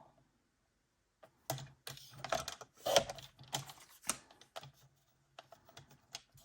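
Paper being cut for a scrapbook album: a cluster of crisp, close clicks and snips, with short bursts spread across the middle of the clip and quiet pauses between them.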